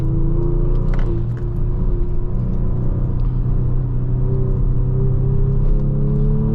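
Engine of an all-wheel-drive Kia Stinger, with its blow-off valve venting to the atmosphere, rumbles loud and close at a steady idle or light rev, a low droning hum throughout.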